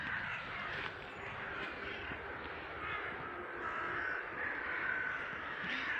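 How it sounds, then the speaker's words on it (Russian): Several crows caw repeatedly from trees in an autumn city park. The harsh calls overlap at middle distance over a steady outdoor hum, with no one talking. "Слышите, как каркают вороны?"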